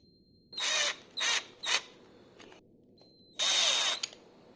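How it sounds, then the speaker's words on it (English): A power drill bores holes into a wooden top for a homemade sim racing wheel stand, giving several short whirring bursts and one longer run, close and clear with no talk. "I'm going to take the top off and drill holes in it."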